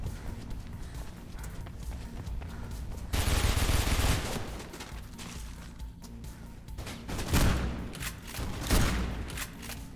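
Gunfire in the video game Mirror's Edge: dense bursts of shots rising out of steady game background noise, with a louder volley early and another flurry near the end.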